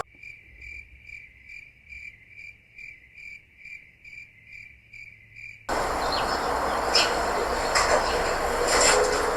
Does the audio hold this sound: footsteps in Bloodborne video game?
no